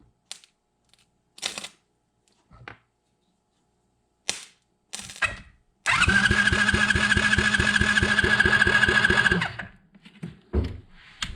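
A rebuilt GIO engine cranks with a few short bursts and pops, then catches and runs for several seconds with a steady, loud mechanical putter before cutting off, followed by a few more brief knocks.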